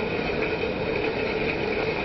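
A train rolls along steadily in the Final Fantasy XIII video game opening, a constant loud rumbling and rattling drone with a faint tonal whine, unbroken and with no talk throughout.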